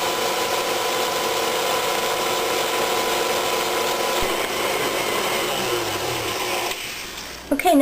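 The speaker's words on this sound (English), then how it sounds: "This is a very, very old mixer. This was my mom's mixer." A very old kitchen mixer whirs steadily while whipping marshmallow mixture, a continuous motor drone with a beater rattle, and the pitch sags slightly as it slows near the end.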